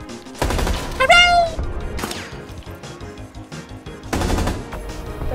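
Loud gunfire in Rainbow Six Siege, with bursts of automatic shots at the start and again near the end, mixed with sharp impacts and a brief ringing tone in between.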